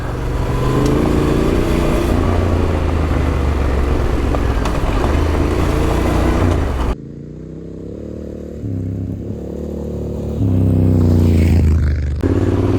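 An off-road motorcycle rides an autumn trail over deep layers of fallen leaves, its engine droning loud and close, easing off midway, then rising again.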